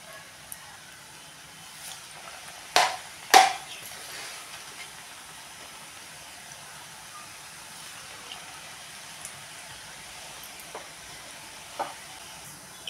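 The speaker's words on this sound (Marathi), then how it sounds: "आता एक एक चकली आपण अशी तेलात सोडून घेऊया" Chakli spirals of dough lowered one by one into hot oil over a medium flame, giving a soft, steady sizzle with faint bubbling throughout and two brief louder splashes near the start.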